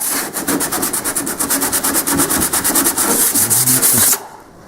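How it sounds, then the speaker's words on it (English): Steady back-and-forth sanding strokes on metal edges where a rivet was removed, a close, continuous rhythmic rasping for about four seconds before stopping abruptly. "I sanded along here, made sure I have no sharp edges"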